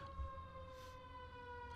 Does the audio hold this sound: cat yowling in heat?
no